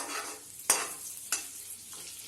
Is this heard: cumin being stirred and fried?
yes